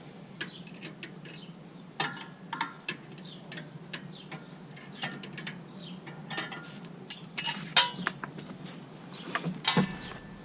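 A 14 mm wrench works a tie rod end on an Acura MDX, giving irregular close metallic clicks and ratchet-like ticks spread across the stretch, with a few sharper clanks and no talking.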